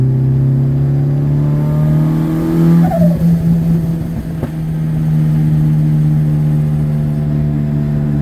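A Honda Civic engine accelerating in third gear, a loud close steady drone rising in pitch, with a brief dip and a short transient midway before the pull continues.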